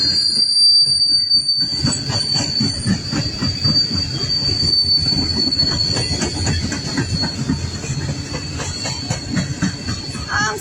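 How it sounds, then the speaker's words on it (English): A long coal train rolls past at Quinnimont, West Virginia, its wheels squealing in a sustained high screech over steady rumbling and clatter, loud and close throughout. "Why a train is going by?"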